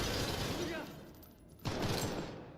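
A frag grenade goes off in a stealth-oriented tactical shooter with a single loud, boomy blast and a rumbling tail. Dense game noise comes before it.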